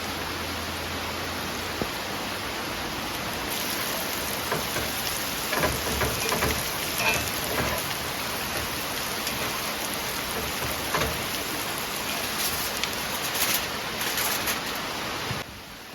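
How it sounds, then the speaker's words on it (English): Steady rain falls in a continuous broadband hiss, with scattered drops pattering on nearby surfaces and no voices. "I'm getting a little shower of rain too."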